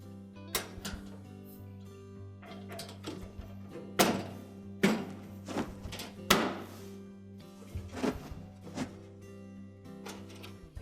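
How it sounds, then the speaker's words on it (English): The top panel of a Whirlpool dryer is pushed back into place, giving a run of dull thunks and knocks of metal and plastic, several sharper clunks as it latches, close up and without speech. "take the top of it and press it straight back till it latches"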